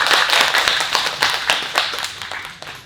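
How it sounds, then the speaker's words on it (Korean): After a psychology lecture at a book concert, an audience breaks into close, lively applause. Individual claps are distinct and rhythmic at first, then grow slightly softer and more scattered as the clapping winds down. "다시 한번 큰 박수 부탁드립니다"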